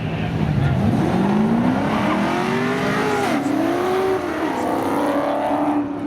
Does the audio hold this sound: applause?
no